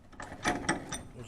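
A ratchet on an extension loosens a valve cover bolt on a 2014 Nissan Rogue Select, giving a short, close burst of three or four quick pawl clicks.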